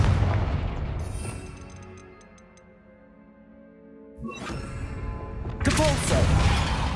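Confringo blasting spell from Hogwarts Legacy going off in bursts: a loud, broadband blast early on, a quieter stretch with faint tones, then two more forceful, crackling booms toward the end, set against game ambience.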